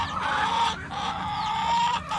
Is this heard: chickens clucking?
yes